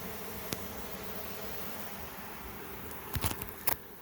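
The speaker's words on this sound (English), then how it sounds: "So some of the bees that are flying are working their way down to this box." A honey bee swarm flies toward a capture box, a faint steady hum of many insects with a few brief closer buzzes passing by near the end.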